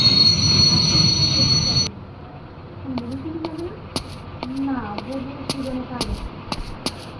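A train at a railway station lets out a run of high, squealing wheel screeches and sharp metallic clicks after a loud steady hum, with a busy platform rumble underneath.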